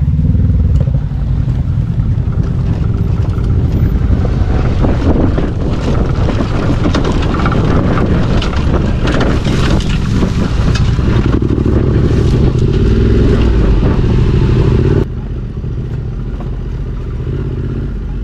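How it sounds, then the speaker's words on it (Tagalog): Loud motorcycle engine rumble as it is bump-started rolling downhill on a backroad, wind buffeting the microphone, the engine note dropping abruptly near the end. "mag-start ang motor ko pababa"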